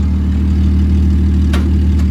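A junkyard Jeep engine idles steadily after nearly stalling, a loud continuous low rumble with a couple of brief sharp clicks near the end and no talking.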